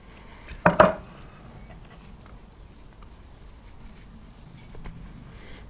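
Metal lid of a burger press picked up and set down while making a cheese-stuffed Juicy Lucy burger for the grill, one sharp close clank followed by faint handling clatter in a quiet room.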